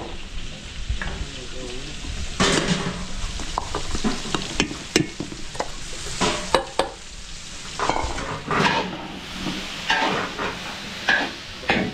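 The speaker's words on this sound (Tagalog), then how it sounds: "Tayo mga belly, kikisa na natin yung pang kaldereta." Pork belly sautéing with garlic and onion in a pan for kaldereta, a steady sizzle under repeated clanks and scrapes of a spoon stirring, close by and lasting throughout.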